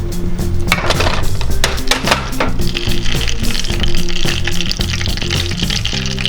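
Shrimp frying in hot grease for scampi, a loud continuous sizzle and crackle with scattered clinks of a utensil against the pan, close up and with no talking.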